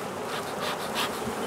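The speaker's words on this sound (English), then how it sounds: "These bees do not seem happy." Honey bees buzz around an open hive after capped brood was found, a dense, steady swarming drone with agitated swells, close and continuous with no voices.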